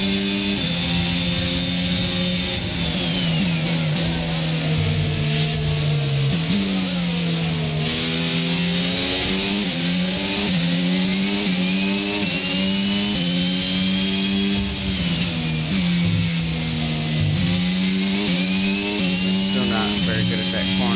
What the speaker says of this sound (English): We go flying past Ricardo as we start lap number 2